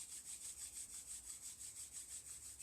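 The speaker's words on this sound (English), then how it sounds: "gently rub the palms together, create some heat and some friction with the hands" Palms rubbing together during a yoga flow, a soft rhythmic swishing friction repeating evenly, very quiet and alone.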